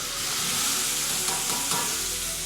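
Hot oil sizzles loudly and steadily as tomatoes fry in a pan with mustard seeds and curry leaves, a continuous close hiss with faint stirring.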